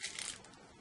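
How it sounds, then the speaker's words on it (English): Red heat transfer vinyl foil scrap crumpled by hand, a short, close burst of crinkling and crackling that fades quickly, with no talking. "So I'm gonna crumple this up here."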